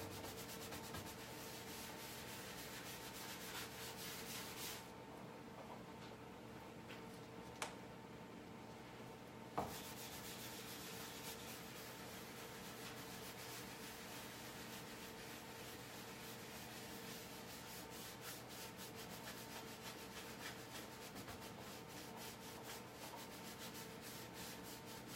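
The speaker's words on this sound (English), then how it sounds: "I want to get that wax in all of those chips and nicks and kicks and scrapes." Wax is pressed and rubbed hard into the chips and scrapes of a rustic painted antique door, a faint, continuous scrubbing that runs on steadily with a couple of small knocks along the way.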